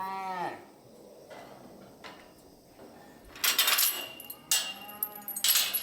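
A young calf on a farm moos loudly and close at the start, followed by clattering and banging of gates or metal pens during handling.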